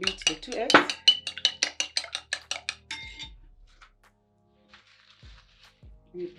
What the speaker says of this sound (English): I'm going to beat the 2 eggs